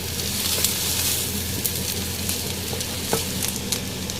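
Egg fried rice sizzles steadily in a pan while being stirred, a dense close frying hiss with occasional scrapes and spatters throughout.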